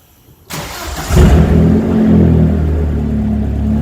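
A Vauxhall Astra VXR with a Stage 2 Airtec intercooler, jacked up with its front section removed, cranks and fires into a loud idle that rises into a sustained rev and then settles into a steady rumble.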